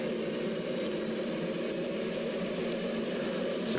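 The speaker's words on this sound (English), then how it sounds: "And the engine is lighting up." Concorde engine starting up in a flight simulator, a loud, steady jet whine and roar holding constant throughout, with a faint high tone above and no talking.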